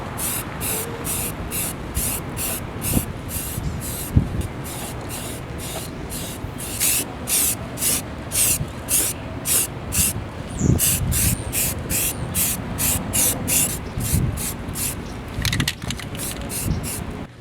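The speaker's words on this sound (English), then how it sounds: "you hold the can 6 to 8 inches away from it, you lightly spray, and you add one coat at a time" A spray can lays primer onto exposed car body metal in a run of short, even bursts of hissing spray, close and steady, repeating through the whole stretch with brief pauses between passes.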